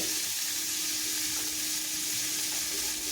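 Onion and potatoes fry in oil with a constant, even sizzle and hiss, close by and uninterrupted.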